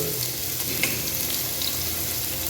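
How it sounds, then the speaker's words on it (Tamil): Onions go into hot oil in a pot for kushka biryani, giving a constant, moderately quiet frying sizzle with faint crackles and stirring noises throughout. "இப்போ நான் வெங்காயம் போட போகிறேன்"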